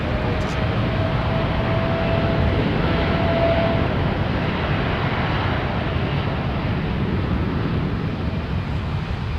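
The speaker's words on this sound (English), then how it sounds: "It's not a rare sight to see the A350 operating out of Heathrow with Finnair." A Finnair Airbus A350 jet at London Heathrow Airport produces a steady, broad engine roar that holds at an even level throughout, with a faint whine briefly audible early on.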